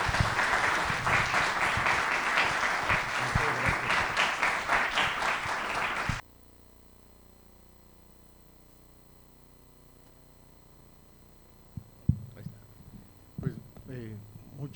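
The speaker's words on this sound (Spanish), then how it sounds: "Vamos a recibirlo con un fuerte aplauso," Dense, loud applause from an audience welcoming a speaker at a university faculty event runs steadily for about six seconds, then stops abruptly, leaving a quiet room with a few faint voices and small knocks near the end.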